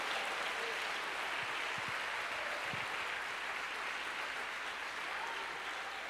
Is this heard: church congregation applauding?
yes